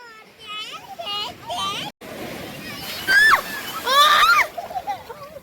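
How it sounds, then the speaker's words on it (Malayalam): Sea waves splash and slosh on Kozhikode beach during a family outing, a steady wash beneath children's excited chatter and calls, with louder bursts near the end. "തിരമാല അടിച്ചിട്ടു"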